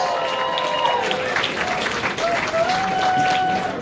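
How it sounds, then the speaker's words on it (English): A campaign-night audience in New Hampshire breaks into sustained applause, a dense, even wash of clapping with scattered voices and cheers mixed in. "Give them a round of applause."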